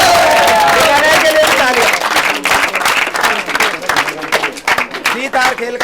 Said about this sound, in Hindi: उन सब के लिए भी तालियां